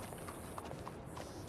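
Horse hooves clip-clop in a steady, moderately close rhythm within a video game, the rider carrying a bounty on the horse's back, with faint background ambience.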